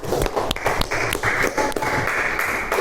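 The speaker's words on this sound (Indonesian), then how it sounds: "Beri tepuk tangan untuk Mbak Valerina." Students clap for a classmate in a classroom, giving a short, uneven round of close hand claps with sharp individual slaps standing out from the scattered clapping.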